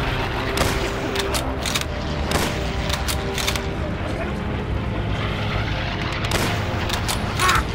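Rifle gunfire in the World War II shooter Call of Duty: World at War sounds amid a dense din of bomber engine drone and scattered sharp gunshot cracks, with voices talking over the battle noise.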